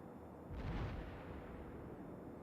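Naval guns on a warship fire at an enemy ship in a video game, giving one heavy, deep boom that fades into a low rumble over steady background noise.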